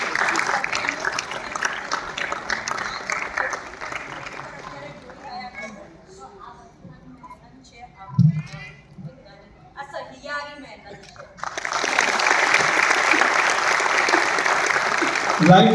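Audience applause at the closing ceremony of a dance school's annual function: loud sustained clapping fades out, a person speaks over a hushed hall, then a fresh, full burst of clapping rises and carries on to the end.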